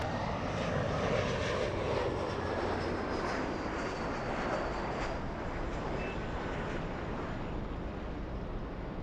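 Delta 991 heavy jet airliner taking off from runway 24 left, a steady broadband engine roar with a faint whine above, loud and sustained throughout without talk.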